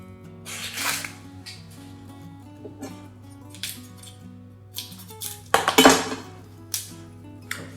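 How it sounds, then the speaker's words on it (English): Knife chopping through an onion on a flat cutting board, a string of sharp taps and clinks with a few louder bursts of quick strokes near the end, close and clear over a steady low background hum. "First of all, I'm going to chop the onion."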